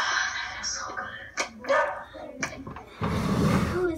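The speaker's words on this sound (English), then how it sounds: "And your dog is literally with you." A dog barks in short, close bursts at home while people talk and laugh over it, ending in a louder rustling noise.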